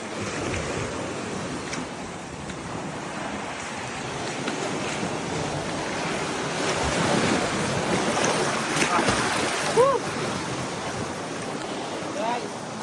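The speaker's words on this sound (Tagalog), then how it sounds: "Lakas na yung alon niya." Steady roar of strong ocean waves and wind close by on a Philippine shore near a cave, loud and continuous, with a brief faint voice partway through.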